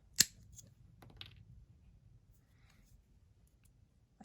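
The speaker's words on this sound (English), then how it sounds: "take this blade and some wire cutters and cut the ends off." Wire cutters snip the ends off a scroll saw blade in a gourd-crafting workshop, one sharp close metallic snap followed by quieter handling clicks and a faint final click.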